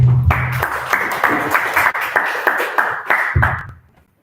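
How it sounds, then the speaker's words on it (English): Audience applause for a Toastmaster at a club meeting in a hotel function room: a dense, steady burst of many hands clapping, fairly loud and close, carrying on for about three seconds before fading out. "round of applause to Toastmaster Neti"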